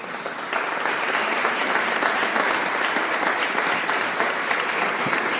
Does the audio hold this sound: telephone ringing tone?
no